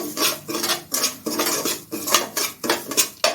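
Unroasted semolina dry-roasted in a pan and turned with a spoon makes rhythmic, close scraping strokes, about two per second, with gritty metallic rasps and no voices.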